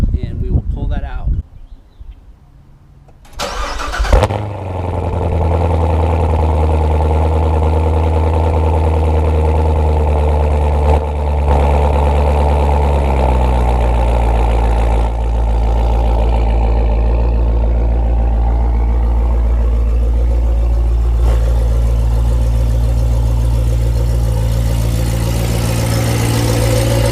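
A 2015 Chevrolet Corvette engine starts with a burst, then settles into a loud, deep, steady idle with a slight change in tone as it pulls out of the garage, close and continuous.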